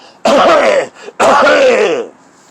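Two loud, rough, throaty coughs close up, each drawn out and hacking, separated by a brief pause.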